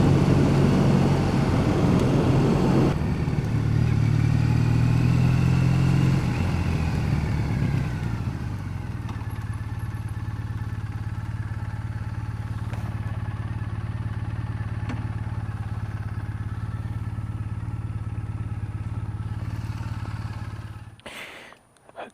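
A 2014 Triumph Bonneville motorcycle is ridden, its engine revving up in a rising drone and then settling into a steady, lower cruising hum under wind noise before fading out at the end.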